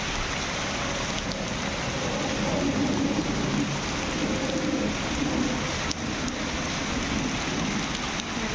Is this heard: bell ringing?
no